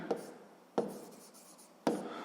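A pen scratches across paper by hand in three short, close strokes spaced evenly apart, with quiet room tone between.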